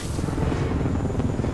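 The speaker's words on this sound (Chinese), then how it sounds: "哇，直升机来了。" Helicopter arriving in the video game Marvel's Spider-Man, a steady loud rotor rumble and whir filling the short stretch without a break.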